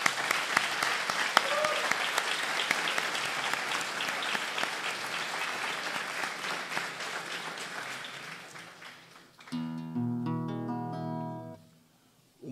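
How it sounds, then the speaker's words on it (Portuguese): Concert audience applauding at a classical guitar recital, a sustained dense wash of clapping from a crowd that fades out near the end, while a few sustained instrumental tones enter over it. "Uma salva de palmas para eles."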